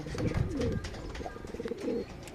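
Pigeons coo close by in soft, throaty bursts, two main rounds of low warbling calls with short pauses between them.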